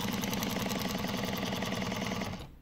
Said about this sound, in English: I'm going to try and sew.